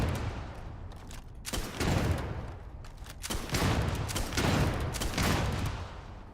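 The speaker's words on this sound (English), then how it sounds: "That's like a grenade launcher." Grenade launcher fired in Starfield, several heavy booming blasts in an irregular sequence, each with a broad burst and rumbling tail, close and loud, without voices.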